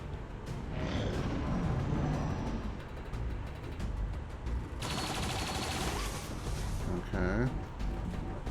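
In XCOM 2 combat, dense bursts of gunfire crackle amid layered battle noise and game effects, with voices talking throughout the shooting.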